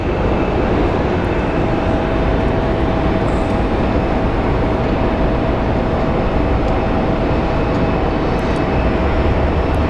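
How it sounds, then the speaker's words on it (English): A CRJ 100 cargo plane arrives at Phoenix Sky Harbor International Airport, its jet engines a loud, steady broadband roar with a faint tonal whine and no break throughout. "looks like our next plane that is arriving is a CRJ 100 from Aeronaves TSM"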